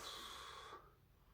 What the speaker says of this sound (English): Let's have a sniff.